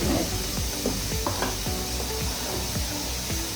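A spatula cuts and folds thick eggless chocolate cake batter in a bowl, giving soft, wet, squelching strokes in a slow repeating rhythm, close and clear, with a steady hiss underneath.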